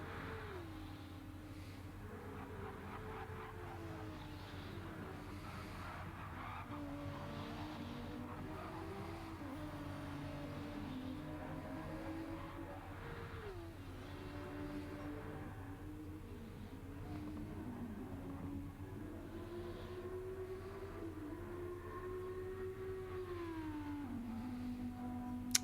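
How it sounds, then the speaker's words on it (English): An Audi Gr.3 race car engine on the Monza circuit in Gran Turismo 7, steady whining revs climbing and falling through gear changes over a constant low drone, faint and continuous throughout. "That Audi sounds good."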